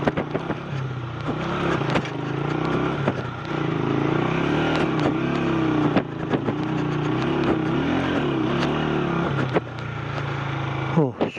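A motorcycle engine drones continuously while the bike jolts over a rocky mountain jeep track strewn with large stones, with rumbling and knocks from the rough ground.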